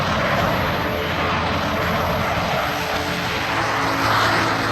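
Rafale fighter jet flying overhead, a steady loud broadband engine roar that holds constant throughout with a slight swell near the end.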